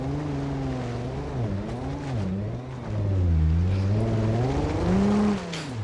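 Engine of a Nissan Pathfinder sliding off-road in BeamNG.drive, revving up and down in loud, wavering pitch swings as the throttle is worked, swelling louder midway and staying close throughout.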